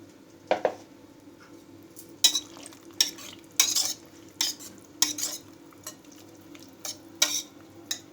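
Yogurt is poured over boiled wheat in a pot and stirred, a spoon producing a series of sharp clinks and wet swishes at an uneven rhythm, close by with no talking.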